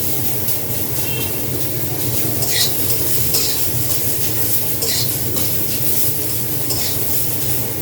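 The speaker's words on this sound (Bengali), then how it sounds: "তারপর এগুলাকে একটু ভেজে নিব।" Ingredients for homemade phirni frying in a pan, a steady dense sizzle running throughout with occasional light scrapes of a spatula, close and fairly loud, no voices.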